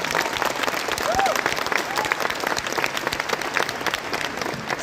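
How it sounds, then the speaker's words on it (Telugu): A large audience at a big real-estate event in Gachibowli bursts into sustained, loud applause that holds steady throughout. "ఈ పిట్ట మనకు ఆదర్శం అనుకునే వాళ్ళు గట్టిగా చప్పట్లు కొట్టుంది ఒకసారి"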